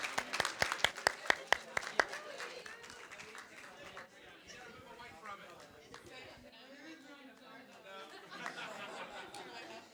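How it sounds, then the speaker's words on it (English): Audience applause at a school-culture learning session, with a burst of sharp, close claps over the first two seconds. It then fades into a murmur of crowd chatter and light laughter that continues to the end. "Give them a round of applause."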